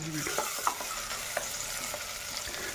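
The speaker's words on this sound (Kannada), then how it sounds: "ಪಲಾವ್ ಎಲೆ ಜೊತೆ ನಾನು ಎರಡು ಈರುಳ್ಳಿ ಹಾಕಿದ್ದೀನಿ ಖಾರಕ್ಕೆ ಹಸಿಮೆಣಸು" Onions and green chilies fry with bay leaf and curry leaves in a pan, a continuous close sizzle broken by a few light scrapes and taps of stirring.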